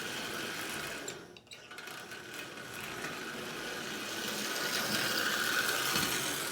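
A Marx 999 toy locomotive, long unused, runs with sparking wheels, giving a steady whirring mechanical hum throughout with no talk.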